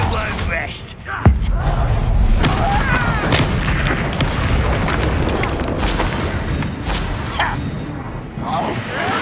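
A Bombarda spell blasts in Hogwarts Legacy with a heavy boom early on, followed by continuous rumbling debris, crackles and combat noise, while voices speak over the din.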